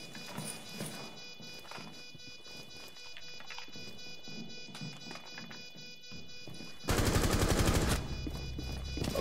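Gunfire from a wall bang in the video game Rainbow Six Siege, a loud rapid burst near the end after quieter game noise and scattered small shots.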